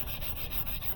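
Close, steady rasping of sandpaper rubbed back and forth over a 2014 Mercedes headlight lens, rhythmic scrubbing strokes with no talking.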